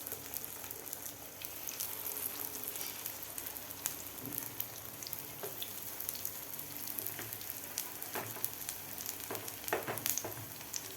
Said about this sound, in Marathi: मिडियम गॅसवरच आपल्याला हे कटलेट फ्राय करायचे आहेत.